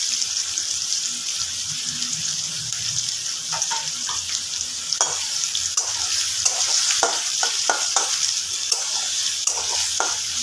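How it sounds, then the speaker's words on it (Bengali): Chopped onions fry over medium flame in a pan for a Bengali mutton kosha, a continuous bright sizzle with scattered clicks and scrapes of stirring, fairly close and steady throughout. "মিডিয়াম ফ্লেমে দিয়ে আমি পেঁয়াজগুলোকে ভেজে নেব।"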